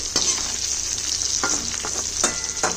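Onions and stuffed bitter gourds (karela) fry in an uncovered pan with a loud, constant sizzle, and a few brief scraping strokes of a spatula sound close up.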